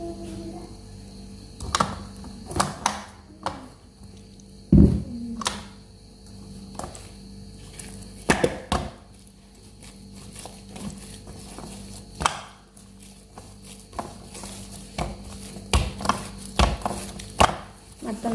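Tandoori roti dough being kneaded by hand on a surface, with irregular soft slaps, thumps and squishes, some louder knocks, in a quiet room without speech.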